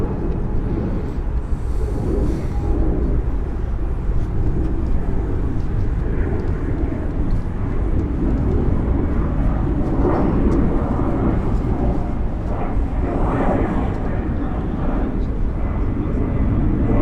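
Airbus airliner at Frankfurt Airport, its engine roar a steady, loud broadband rumble that fills the whole stretch, with wind buffeting and a voice talking faintly underneath.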